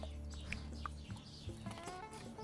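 Young chicks peep in faint, scattered high calls beside a broody hen in a coop, with low background rumble running underneath.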